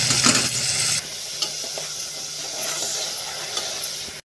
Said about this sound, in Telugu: పచ్చిమిర్చి వేగిన తర్వాత శనగపప్పు వేయాలి